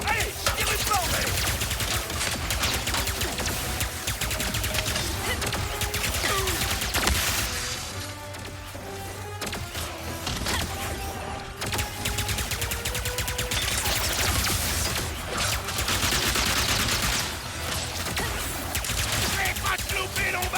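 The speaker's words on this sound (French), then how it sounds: "Cette canaille a un piston rafale. Allez, tire une bordée." A piston rafale gun in the video game Ratchet & Clank: Rift Apart fires volley after volley, a dense, continuous crackle of blasts that drops back briefly in the middle before picking up again.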